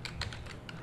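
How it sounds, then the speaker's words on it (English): Soft, quick clicks of typing on a computer keyboard, a handful of keystrokes in an irregular burst, close but faint. "just by typing in part of the name"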